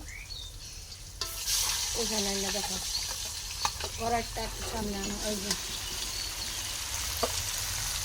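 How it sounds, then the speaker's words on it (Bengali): Fish sizzles steadily in a hot pan with occasional stirring clinks while someone speaks over it. "মাছটি আগে হালকা ভাজা নেবেন"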